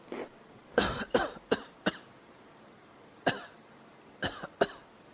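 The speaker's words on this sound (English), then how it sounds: "I turned onto my side and coughed up more water." A person coughing up water in a series of wet, harsh coughs, a quick cluster of four followed by a pause and three more, close and clear with no talking.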